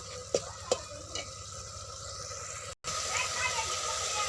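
Dried fish with raw garlic stir-fried in a pan: a constant close sizzle punctuated by a few sharp spatula knocks, with a brief dropout partway through.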